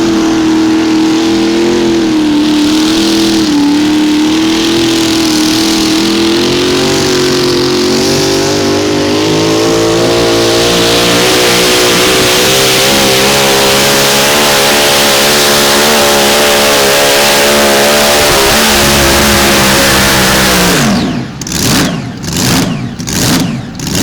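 A modified mini tractor at a tractor pull in Nashville roars loud and close, its engine pitch climbing steadily under load before cutting off into a few sharp pulsing revs at the end.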